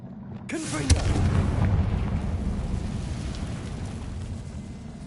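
Bombarda spell exploding in Hogwarts Legacy, a sudden loud blast followed by a long rumbling, crackling tail of debris that slowly fades.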